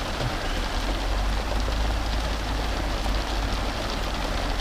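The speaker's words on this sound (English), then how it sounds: "This hail sort of bounces off you, just wets the floor." Hail falling steadily outdoors near water, a continuous loud hiss of many small pellets striking the surface with a low rumble beneath, sounding close and unbroken throughout, with no voices.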